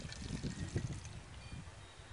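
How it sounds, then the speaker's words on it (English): Water poured into a Starbucks cup for a homemade glasses lens cleaner, a quiet close trickle and splash lasting about two seconds. "So you're going to pour the water,"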